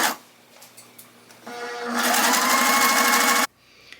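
Sewing machine top stitching a t-shirt neck band: a short burst of stitching, then a long steady run of fast machine whirring from about two seconds that cuts off sharply, with quieter handling before and after.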